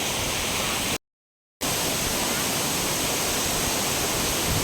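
Steady, loud roar of a waterfall heard up close, a dense continuous rush of water with one brief dropout in the middle.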